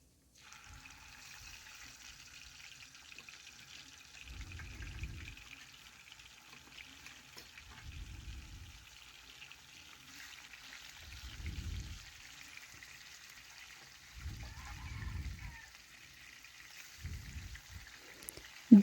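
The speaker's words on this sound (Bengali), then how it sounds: "এখন তেলের মধ্যে এক একটি বাটা মাছ আমি ছেড়ে দেব।" Bata fish frying in hot oil in a home kitchen, giving a steady, soft sizzle with a few low bubbling surges at regular intervals, heard alone without talk.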